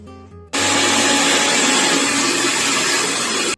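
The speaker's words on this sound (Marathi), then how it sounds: "मी आधी मिक्सरच्या भांड्यामध्ये कोथंबीर ठेवून घालणार आहे मग मिरच्या मग त्याच्यानंतर त्याचं वाटण झालं" A mixer grinder grinds fresh coriander leaves and green chillies, starting abruptly after a short quiet moment into a loud, steady, close whirring roar that holds evenly before cutting off at the end.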